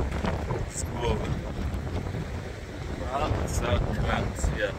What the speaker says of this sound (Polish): Słuchawki musiałem ściągnąć, bo mi wiatr zrywa z głowy.